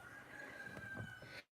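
Farm chickens cluck and a rooster crows faintly against a dense, steady outdoor background near a tractor, ending abruptly.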